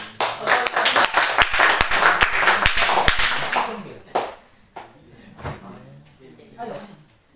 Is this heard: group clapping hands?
yes